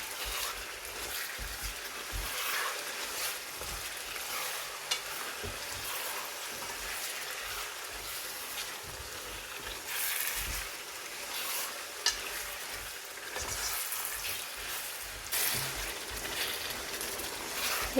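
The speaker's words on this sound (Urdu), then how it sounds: "اچھی طریقے سے ہم فرائی کریں گے۔" Ginger garlic paste frying in a karahi for mutton karahi, a busy continuous sizzle with spoon scraping and stirring swells, close and even throughout, nobody speaking.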